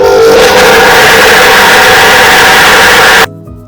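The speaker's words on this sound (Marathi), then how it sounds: "आता हे मी वाटून घेते." A mixer grinder coarsely grinding spices and coconut paste for Malvani khaproli batter, a loud steady whirring roar that runs for about three seconds and then abruptly stops.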